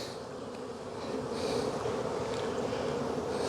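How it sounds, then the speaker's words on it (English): A swarm of angry honeybees buzzes around an open hive during a September apiary inspection, a dense, continuous drone that swells slightly louder after the first second and holds steady throughout. "I got lots of angry bees."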